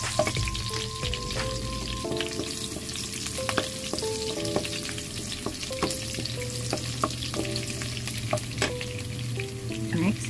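Garlic frying in a pan gives a steady, close sizzle throughout, with stirring clinks on top and faint music playing in the background.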